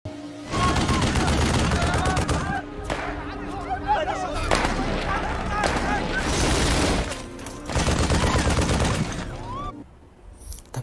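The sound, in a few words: gunfire in a war film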